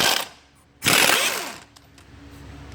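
An impact wrench on a 21 mm nut of a Ford Focus mount fires one loud, close burst lasting under a second, then winds down into a quieter mechanical hum, with no talking.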